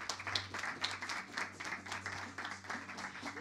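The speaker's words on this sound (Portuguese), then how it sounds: "palmas para o Carlos" Audience applause for a speaker at a biometric solutions business event, a fairly quiet, even patter of clapping filling the whole moment with no pause.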